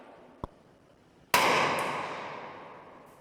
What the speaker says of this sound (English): what you're hearing is that round hitting the back wall